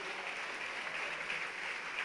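A church congregation applauding during a Holy Supper service, a faint, dense and continuous wash of clapping with no talk.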